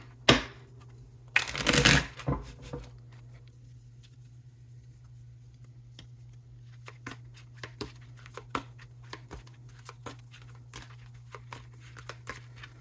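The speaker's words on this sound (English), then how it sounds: "let's do one more good shuffle." A brisk burst of tarot card shuffling near the start, a rapid papery riffle, followed by soft scattered taps and handling sounds over a steady low hum.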